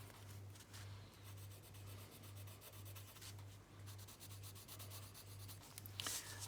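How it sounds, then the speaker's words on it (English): Soft wax-core coloured pencil rubbed with the flat of the lead across paper gives a close, steady scratchy rubbing in repeated short strokes, quiet and continuous with no talking. "I do find colouring sort of with the flat of the pencil makes it smoother."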